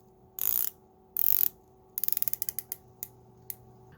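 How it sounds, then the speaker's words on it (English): Black aluminium 120-click bezel on a Steinhart Ocean One Vintage dive watch turns in two quick tinny ratcheting sweeps, then a string of crisp single clicks slowing and spacing out, close and quiet with no talking. "A black aluminium bezel sits atop the case. This features 120 clicks and has a satisfying feel"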